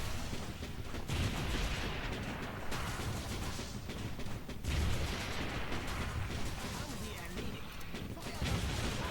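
Battlefield gunfire in the World War II strategy game Blitzkrieg 3, a dense, unbroken din of shots and blasts with heavier booming bursts every few seconds.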